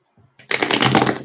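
Tarot cards are shuffled in one quick, close riffle that fills the moment with a dense papery flutter after a few soft taps.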